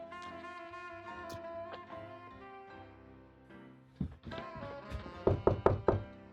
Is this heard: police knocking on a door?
yes